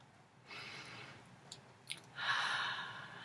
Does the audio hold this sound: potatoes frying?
no